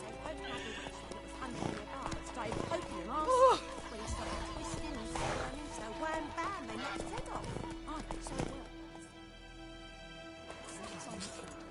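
Geralt's horse Roach in The Witcher 3, hooves clip-clopping with a sharp neigh partway through, close and clear over background music, with someone speaking.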